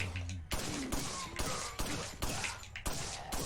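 Gunfire from a weapon in the video game Resident Evil 4, with loud, punchy shots fired rapidly at a roughly even rhythm, about seven in a row, each followed by a short echo.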